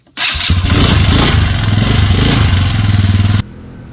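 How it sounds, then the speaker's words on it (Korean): Vehicle engine cranks and catches at a Saipan activity site, then settles into a loud, close, steady rumbling idle before cutting off abruptly near the end. "시동 걸겠습니다."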